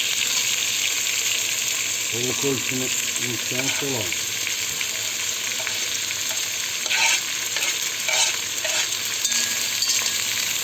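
Chicken pieces frying in a pan, a constant loud sizzle across the whole span with occasional stirring scrapes, while someone speaks briefly over it.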